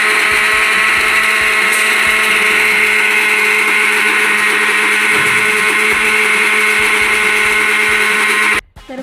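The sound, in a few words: grinder finely grinding neem leaves for soap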